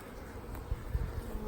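Honey bees buzzing around an open single brood chamber hive during a honey harvest, a faint, steady low drone lasting just over a second, ending in a sharp knock.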